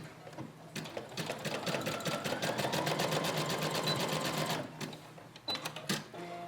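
A sewing machine runs a zigzag stitch over a serger seam on fabric, a steady fast mechanical clatter lasting about four seconds, with brief handling clicks before and after.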